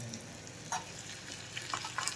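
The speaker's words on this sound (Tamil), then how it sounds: "கொஞ்சம் வெங்காயம், கொஞ்சம் கேரட்டு நம்ம போட்டு நல்லா மிக்ஸ் பண்ணி விட்டுக்கணும்." Chopped onion and carrot stir-fry in a hot pan with oil for a Tamil evening snack. A steady close sizzle runs throughout, with a few brief scraping stirs of the spatula.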